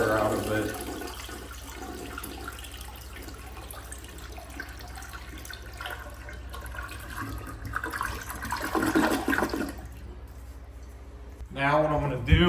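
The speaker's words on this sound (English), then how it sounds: "You want to flush the old toilet to get all the water out of it." An old wall-hung toilet being flushed during replacement, a rushing gurgle of draining water that swells then fades toward silence, followed by someone speaking nearby.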